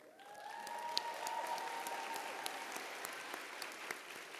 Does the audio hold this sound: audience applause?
yes